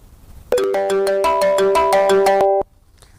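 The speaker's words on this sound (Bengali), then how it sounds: "এরকম বিভিন্ন ধরনের রিংটোন এখানে রয়েছে।" A phone ringtone played in a ringtone app: a short, loud run of rapid bell-like plucked notes lasting about two seconds before cutting off to quiet.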